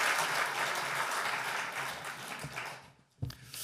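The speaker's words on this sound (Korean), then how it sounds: "박수로 환영하시겠습니다" A church congregation at a men's mission prayer meeting claps to welcome a pastor, fairly quiet applause lasting about three seconds before fading, followed by a single soft thump.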